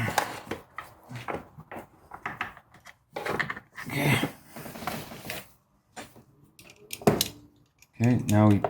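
An Audi A4 B7 vacuum pump is hand-tightened under the hood, with close metallic clicks, rattles and tool-like clatter in uneven bursts and a brief voice at the end.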